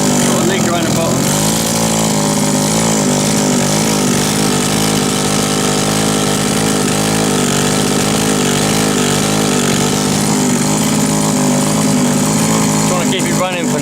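An old petrol strimmer engine idling unrevved with a leak at the bottom, a loud continuous buzzing drone close by, the pitch wavering slightly from start to end.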